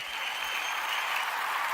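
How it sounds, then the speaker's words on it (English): A crowd applauds steadily and briskly for a man at a television after-show gathering, a short, even wash of clapping with no clear talk. "Clap it up for that man."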